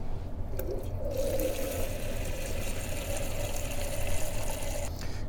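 Water poured into a small drinking glass, filling it in one steady, continuous gush that runs evenly for several seconds and sounds close and fairly loud.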